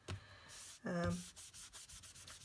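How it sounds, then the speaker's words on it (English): An anti-static embossing buddy is rubbed over card before embossing, giving soft close brushing and scrubbing strokes in quick repeated bursts, with a brief louder scrape in the middle. "So before I do my embossing, I am going to use my embossing buddy."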